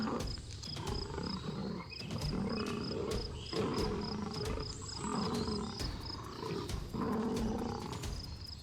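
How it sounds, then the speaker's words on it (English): Lions in a violent fight on open plains, with repeated deep roars and snarls over a steady insect hum and high chirps, loud and continuous throughout. "Roars echo across the plains, and bites target the neck and legs"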